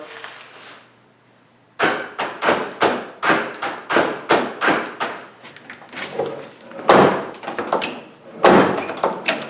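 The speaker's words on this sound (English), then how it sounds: "I'm going to check and make sure the actuator's working for the door locks real quick" A rapid series of mechanical clunks and thuds from a Jeep door lock actuator cycling repeatedly, close up after a brief quiet start.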